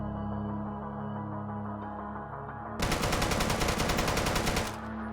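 Rapid automatic gunfire in the video game Deadside during a recoil test: a sustained, loud burst of about two seconds after a stretch of steady background hum, then an abrupt stop.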